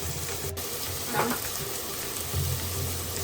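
Onion and cashew nuts frying in oil in a pan, a steady soft sizzle with faint stirring scrapes, moderately close, no talk.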